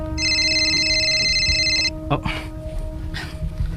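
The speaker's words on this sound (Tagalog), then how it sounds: "Si Sabrina ni nanawag" A telephone rings in two long trilling bursts near the start, then stops as people begin talking over a low background.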